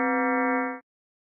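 Synthetic harmonic tone with its second harmonic compressed to 1.9 times the fundamental, played as one steady, sustained note for roughly 0.8 seconds before stopping abruptly, with no other sound around it.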